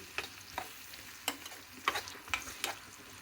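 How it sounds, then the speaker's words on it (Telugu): Salted sliced onions fry in a pan with a low, steady sizzle, while a spatula scrapes and stirs in about half a dozen sharp, irregular strokes close by. "చూడండి, ఉల్లిపాయలు వేగింది."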